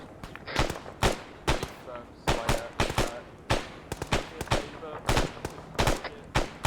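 Rapid bursts of rifle and machine-gun fire ring out in the military shooter Arma, with sharp repeated shots in uneven clusters, some near and loud, and faint radio-style voices underneath.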